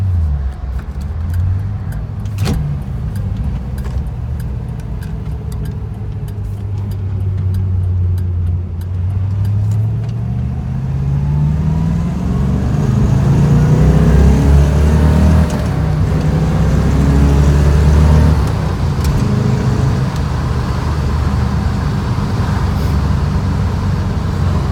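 A 1965 Corvette coupe drives along with a steady low engine drone and road rumble from inside the cabin, rising as it accelerates and gradually shifting pitch through the run, with no talking.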